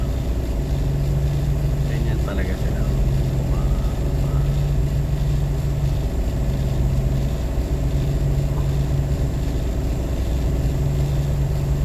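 Idling engines fill a congested Pasig street packed with motorcycles near a broken stoplight, a steady close drone that runs throughout while someone talks over it.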